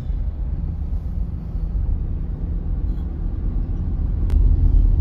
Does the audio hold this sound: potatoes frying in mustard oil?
no